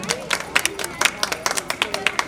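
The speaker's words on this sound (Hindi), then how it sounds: "तालियों में कोई कोताही नहीं, तालियों से स्वागत करती रहें।" An audience at a prize-distribution ceremony gives uneven, scattered applause to welcome winners, with distinct claps popping out irregularly and voices underneath.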